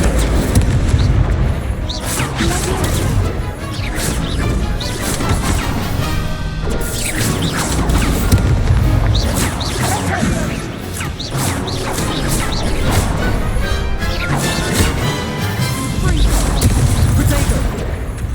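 Incendio fire spell cast during a duel in Hogwarts Legacy, heard as repeated loud booming, crashing blasts amid dense continuous game combat effects and music, with a voice calling out spells.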